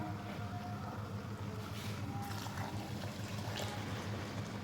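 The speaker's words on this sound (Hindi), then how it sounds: "और साथ इसमें शामिल कर देंगे 1 कप पानी का," A cup of water being poured into a pan of frying chickpea curry, a steady splashing gush over loud hissing and sizzling, heard up close and continuous.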